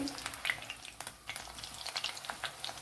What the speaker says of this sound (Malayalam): ഇത് ഓയിൽ ഇവിടെ ചൂടായിട്ടുണ്ട് കൂട്ടുകാരെ അതിലേക്ക് പാവയ്ക്ക ആഡ് ചെയ്തിട്ടുണ്ട്